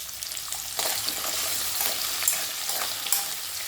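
Small onions, red chillies, garlic and curry leaves sauté in hot oil for a thokku: a dense, continuous frying hiss that jumps louder early on, with scattered crackles and stirring close by.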